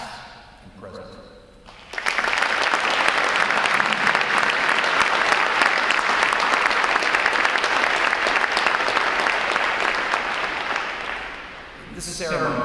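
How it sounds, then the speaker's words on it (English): Sustained applause from a large crowd at a Navy NROTC graduation ceremony honouring veterans, service members and midshipmen, starting abruptly after a short lead-in and filling the room steadily for about ten seconds before tapering off. "Please join me in a round of applause for our veterans, service members, and NROTC midshipmen,"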